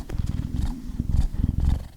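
A person in a fursuit imitates a cat with a low, rumbling purr, a close, continuous vibrating growl pulsing in short waves for about two seconds.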